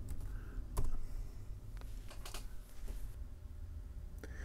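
Keys tapped on a computer keyboard while entering a firmware command for an FPV drone flight controller, a few irregular clicks, one sharper strike, over a steady low room hum.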